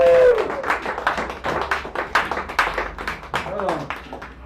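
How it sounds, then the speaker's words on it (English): Scattered applause from a small café audience at an open mic night, uneven individual claps under murmured talk and voices, rising and falling in loose bursts. "give the biggest round of applause that you possibly can"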